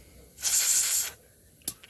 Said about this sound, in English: then we just spray it off one more time.